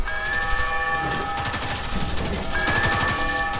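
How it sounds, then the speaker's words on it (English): Rapid automatic gunfire in the Warframe video game during a fight to take a tower, a dense rattling stream of shots with a sustained tonal hum underneath, loud and continuous. "shooting people in the head does more damage"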